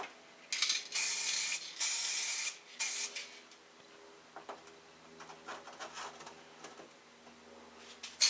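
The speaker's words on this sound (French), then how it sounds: "L'avantage de la bombe, c'est que ça sèche assez vite et ça comble les cavités." An aerosol spray paint can applying a matte coat to a gun lets out three short, close hissing bursts, followed by quiet handling clicks and rustles.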